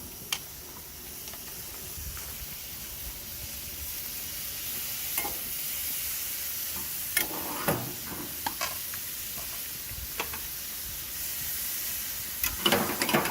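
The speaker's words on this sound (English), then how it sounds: "when you put it on, it sizzles" Beef sizzles steadily on a hot grill, a constant crackling hiss with occasional louder pops and scrapes.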